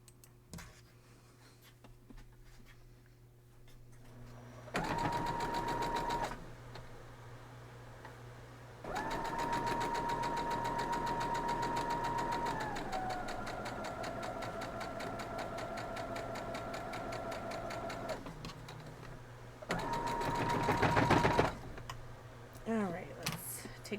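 Several bursts of a sewing machine stitching a seam on a wild geese quilt block, with a steady humming motor and rapid needle clatter that starts and stops and runs close and moderately loud.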